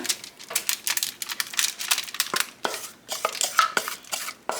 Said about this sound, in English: now we're just going to put them in our pan here